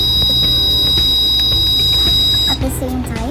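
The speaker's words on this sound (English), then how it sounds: "The buzzer immediately sounds and the red LED lights up as a warning." An ESP8266 flame-detecting fire alarm buzzer sounding loudly as a warning, a steady high electronic tone over a dense, noisy background that cuts off partway through.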